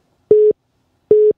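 A telephone ringback tone sounds as a call is placed, two short steady beeps spaced apart with silence between, clean and close.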